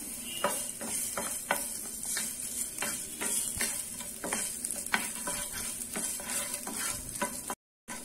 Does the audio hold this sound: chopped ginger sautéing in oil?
yes